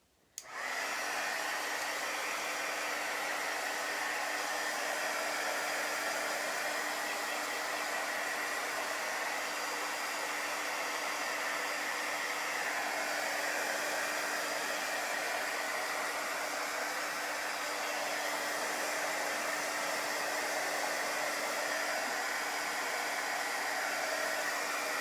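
A hair dryer blows steadily and loudly on chalk paste for the whole stretch, a continuous close whoosh with a faint hum and no voices.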